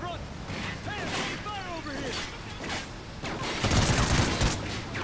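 Rapid bursts of gunfire from a helicopter in Call of Duty: Ghosts crackle in dense clusters, with people talking throughout and the firing growing heavier toward the end.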